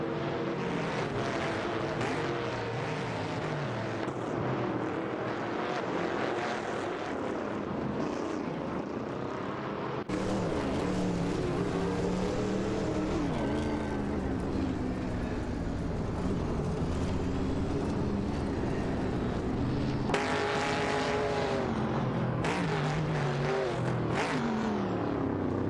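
Race cars, among them 1971 Ford Torinos and Dodge Chargers, roar around the track in a racing video game, a continuous loud engine drone with shifting pitch and occasional abrupt cuts as the mix of cars changes.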